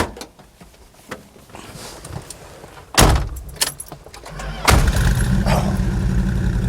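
A 1970 Plymouth Superbird: keys jangle and a door clunks, then the engine cranks and fires with a sudden loud burst and settles into a steady, close, rumbling idle.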